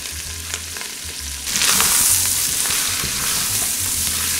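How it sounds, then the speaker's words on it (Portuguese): Garlic and grated carrot fry in a pan for a white bean dish, starting as a moderate sizzle that swells into a loud, hissing crackle as more goes in, holding steady up close. "Deixar fritar."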